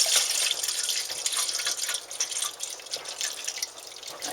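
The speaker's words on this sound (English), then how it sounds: "I'm going to pour the milk in" Milk poured from a gallon jug into a double boiler for homemade Greek yogurt, a steady close splashing and trickling pour running continuously without talk.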